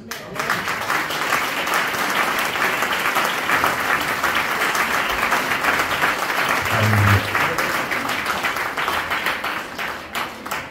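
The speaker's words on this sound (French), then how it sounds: "Un tel Dieu mérite vos acclamations." Congregation at a church service applauding and cheering in acclaim of God, a steady dense wash of clapping that holds at full strength throughout, with a brief low vocal shout rising out of the crowd near the end.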